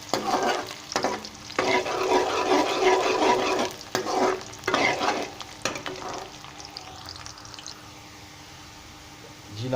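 Onions frying in oil sizzle and crackle steadily with bursts of stirring, loud and close, then settle to a quieter hiss toward the end.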